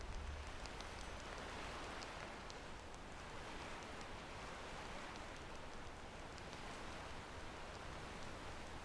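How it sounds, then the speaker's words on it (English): Steady, even rain in the video game Enderal: Forgotten Stories hisses without pause, a dense wash of pattering drops with no voices. "Well, it's raining."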